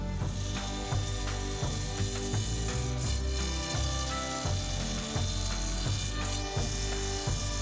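A CNC machine carves foam with its largest bit for a giant gummy cola bottle, a loud continuous mechanical whirring and rattling with rhythmic pulses, no talk.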